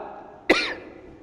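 A single sharp cough bursts out once, close and fairly loud, then fades, with no talking around it.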